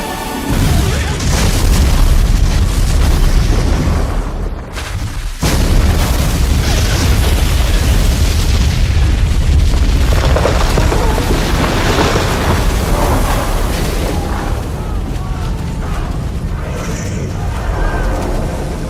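A massive explosion roars with a sustained, rumbling blast and crackling debris, loud and dense throughout, with a brief drop before the rumble continues.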